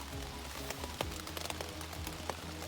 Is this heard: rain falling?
yes